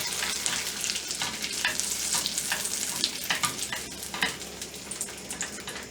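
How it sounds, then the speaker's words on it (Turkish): Butter melts and sizzles in a pan for caramel sauce, a soft steady frying hiss broken by repeated scraping strokes of a spoon stirring it, close and fairly quiet. "karamel sosumuz için şöyle biraz daha eriteyim"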